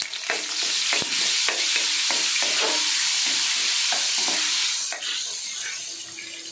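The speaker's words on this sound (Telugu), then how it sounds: "ఎల్లుల్లిపాయ వేసుకోవాలి ఫస్ట్ దోరగా ఎల్లుల్లిపాయ వేసుకొని" Loud, continuous sizzling of garlic frying in oil, punctuated by repeated scraping and clinking of a spatula stirring the pan.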